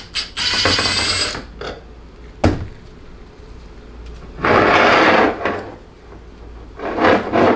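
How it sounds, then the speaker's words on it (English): A top through bolt is being worked loose from a 47RE transmission valve body with a ratchet, giving a few separate bursts of ratcheting clicks and metallic rattle with short pauses between them, close and moderately loud. "Take the top bolt off first."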